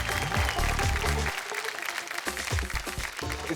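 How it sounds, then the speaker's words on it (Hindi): A studio audience on a television show applauds with steady, dense clapping under loud music that carries the whole stretch, with a brief dip midway before the clapping and music resume. "तालियां।"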